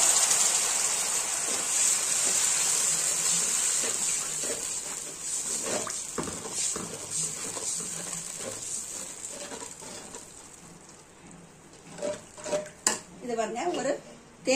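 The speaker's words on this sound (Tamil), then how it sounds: "கொஞ்சம் தண்ணி ஊத்திக்கலாம்." Water is poured into a pot of sugar while a sweet aval dish is cooked, giving a soft, close trickle followed by stirring and light clinks of utensils against cookware, with no talking.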